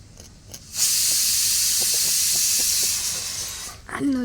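A pressure cooker on a home kitchen stove lets out a loud, steady hissing whistle of escaping steam lasting about three seconds, with a few faint clicks beneath it before it cuts off.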